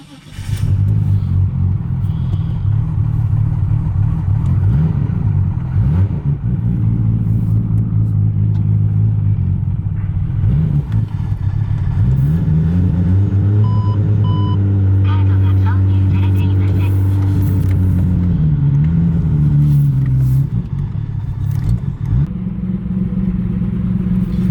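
Car engine running steadily with a loud, deep, continuous rumble that shifts pitch slightly as it settles, with occasional revs and faint voices in the background.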